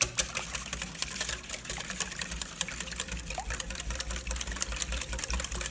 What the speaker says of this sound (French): Donc là, on vient bien fouetter.